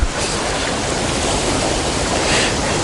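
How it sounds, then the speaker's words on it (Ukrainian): Strong wind gusts beside the Dnipro river in Kyiv at a feeder fishing spot, a loud continuous rushing roar that swells slightly toward the end, with no voices. "Ох і вітер задуває"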